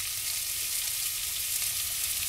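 Smoked sausage browning in hot fat in a pan, giving a steady, even hiss and crackle of frying with no talking.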